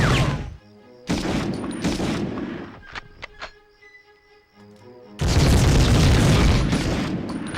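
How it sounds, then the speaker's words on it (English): Grenade explosions in the Medal of Honor video game: loud deep booms burst repeatedly, with sharp gunfire cracks between them and a long, heavy blast rumbling at the end. "This is grenades."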